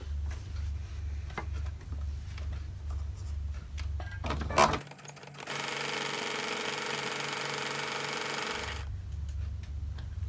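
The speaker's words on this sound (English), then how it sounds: "I've stitched past my batting here to make sure that these two pieces are stitched together well" A sewing machine stitches scrappy quilt-as-you-go herringbone block pieces past the batting with a steady, rapid, close mechanical whirr. It stops midway while a broad rustling hiss fills the gap, then resumes.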